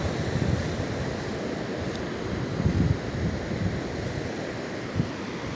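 Ocean surf rolls in at Cox's Bazar beach on a morning shore, a steady wash of waves with a few soft surges, mixed with wind buffeting the microphone.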